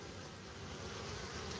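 Honeybees in a busy bee yard make a dense, steady buzzing hum, close and continuous, with no voices.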